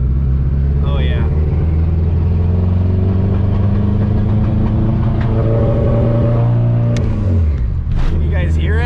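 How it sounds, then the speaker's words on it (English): AWD-swapped Honda Civic engine accelerating hard and running rough with a misfire, a loud steady drone of revving engine rising in pitch, with a brief voice early on. "I'm gonna get on it right here and see if it makes a misfire."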